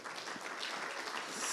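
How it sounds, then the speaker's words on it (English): Brief, steady applause from a concert audience at MIT, a continuous wash of clapping that swells slightly toward the end. "So one more round of applause for them"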